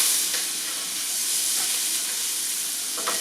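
Onions frying in a pot for Peruvian chaufa, a loud continuous sizzle and hiss with faint stirring scrapes, no talk.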